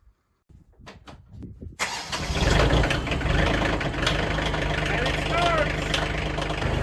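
Kioti CX2510 compact tractor diesel cranking after glow plug preheat, catching and settling into a steady loud idle; a few knocks and clicks come before the start, and there is some background chatter.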